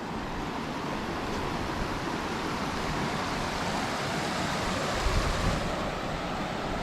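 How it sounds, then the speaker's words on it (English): Steady rushing creek water flows continuously at close range on a hike, a broad even wash with no voices. "Oh, there's a creek coming in right here."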